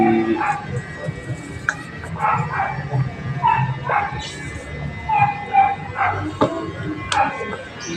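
Small yipping barks from a puppy come in short bursts over several seconds, mixed with soft whimpers and background voices speaking Filipino.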